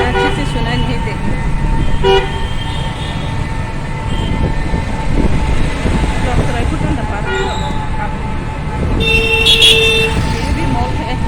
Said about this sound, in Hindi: गाड़ी का बहुत ज़्यादा शोर है, आवाज़ अच्छे से सुनाई नहीं देती।